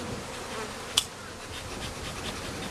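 Honey bees swarm in a loud, continuous buzz after a full hive frame is dropped, the droning hum close and unbroken, cut by a single sharp click partway through.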